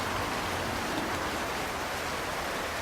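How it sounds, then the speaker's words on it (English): Steady rain falls as a dense, constant hiss with no breaks, close and fairly loud, with no voices. "The rain blocks it all out with its own constant song, its own ceaseless rhythm."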